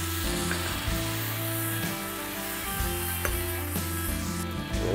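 Beef burgers sizzle steadily on a grill for a beer cheese burger, a continuous crackling hiss with occasional small pops and a low steady background hum, no talking.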